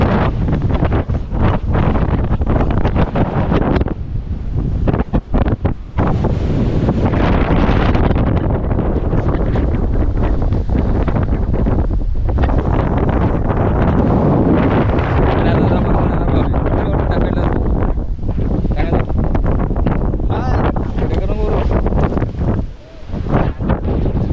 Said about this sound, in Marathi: इथे खाली आहे वारा पण खूप आहे